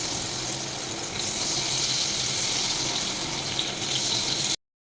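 Cauliflower pieces for Gobi 65 dropped into medium-hot oil give a steady, dense hiss and sizzle that holds loud and even for several seconds before cutting off abruptly.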